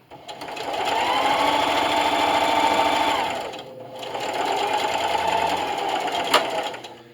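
A sewing machine runs a straight-stitch seam on fabric for a Halloween pyramid treat bag. It hums steadily and close for about three seconds, pauses briefly, then sews on again.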